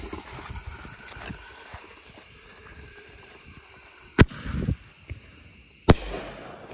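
Phantom Fireworks Blasteroids ball shell from a 12-ball kit bursting outdoors, a sharp loud boom near the four-second mark followed by crackling, then a second sharp report, over a low background rumble.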